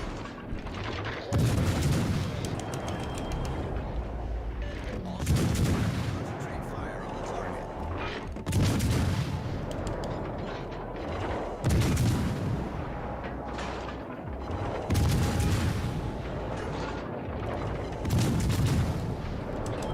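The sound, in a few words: bombs exploding in a naval video game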